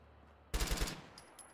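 A single short burst of rapid automatic gunfire from a video game, about four quick, loud, punchy shots in a row, followed by faint higher-pitched clicks.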